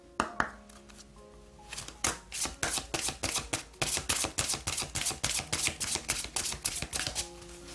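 Oracle cards are shuffled during a tarot reading: after a few soft clicks and a pause, a steady run of quick, crisp riffling snaps follows, close and moderately loud.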